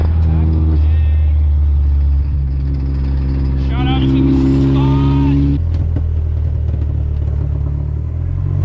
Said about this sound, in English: I'll just do a gnarly raging burnout